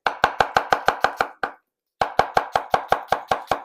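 A knife chops an onion on a board in quick, even strikes, about eight sharp close taps, a short pause, then another steady run of cuts.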